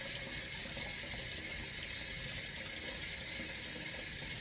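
Water runs steadily into a stock pot from a tap, a constant rushing hiss with a faint high whine, close and uninterrupted, with no talking.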